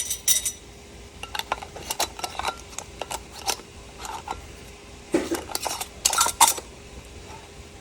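Metal lids and bands clink and rattle onto glass canning jars of sweet pickle relish, a string of bright, close clicks and taps in irregular bursts, with no voices.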